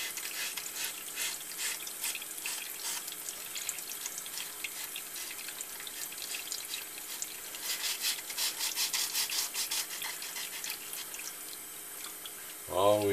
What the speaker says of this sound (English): Now we'll hit the rudder with the 220 grit.